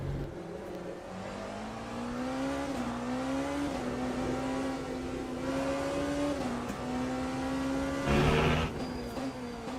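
A Porsche race car engine in Le Mans Ultimate, a racing simulation game, drones steadily, rising and falling with the revs and swelling loudly near the end, with no talk over it.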